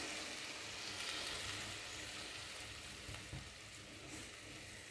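Food sizzles steadily in mustard oil in a wok, with paste ingredients such as ginger, salt and turmeric. A continuous close frying hiss runs throughout with no talk.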